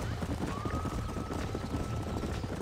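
Horse hooves clip-clop steadily in Red Dead Redemption, a continuous rhythmic clatter at moderate distance over a busy game ambience, with a brief whinny-like tone partway through.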